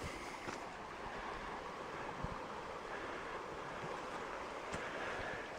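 Continuous broad rushing of the Trinity River flowing, steady and moderately loud, with some wind noise and no voices.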